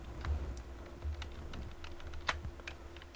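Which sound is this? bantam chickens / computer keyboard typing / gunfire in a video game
computer keyboard typing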